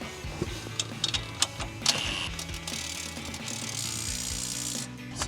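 A wrench ratchets the 18 millimeter bottom strut mount nut tight on a 2005-2014 Ford Mustang fitted with Pedders GT500-style mounts, giving rapid close clicking pawl bursts in quick repeated strokes with faint metallic rubbing between them.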